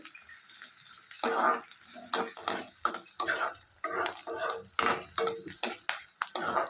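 Chopped onions frying in a pan for a spicy masala chicken fry, close sizzling broken by repeated scraping and stirring strokes of a utensil against the pan, moderately quiet throughout with no talk.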